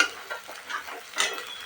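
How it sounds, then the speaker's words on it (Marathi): Boiled moth beans (matki) fry in oil in a pan, giving a soft, steady sizzle with a few scraping stirs and a brighter crackle near the end; close and fairly quiet, with no talk. "मग असं छान तेल सुटस्तर घेतले बरं का भाजून मी व्यवस्थित."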